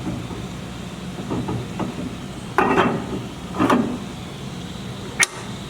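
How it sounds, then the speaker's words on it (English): Ford 8.8 rear axle shaft in a Jeep TJ being pushed back into the housing during a Spartan locker install: a few soft knocks, then two louder metallic clunks and a sharp final clink, close up with no talking. "I'm going to push the axle shaft back in"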